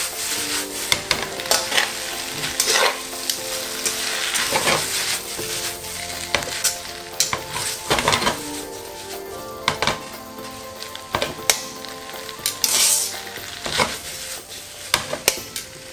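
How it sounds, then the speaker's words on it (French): Green onions stirred and frying with sukiyaki udon in a pan, a sizzle broken by repeated scraping and clattering strokes of a utensil against the pan, close and lively with no voices. "je vais ajouter les oignons verts et je vais encore cuire une trentaine de secondes"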